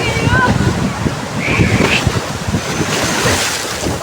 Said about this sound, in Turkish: dalgaya bakın